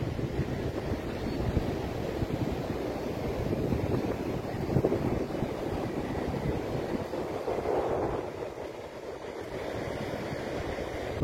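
Steady roar of sea waves washing onto the shore at Bhatye beach, with gusty wind buffeting the microphone throughout.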